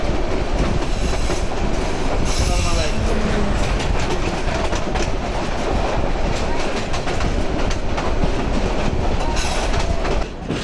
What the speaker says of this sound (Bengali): এই বের হয়ে গেল আমাদের ট্রেন